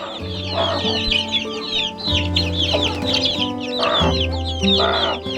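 Shrill high peeping from newly hatched Sussex chicks chirps constantly, with lower clucking from a hen close by in bursts.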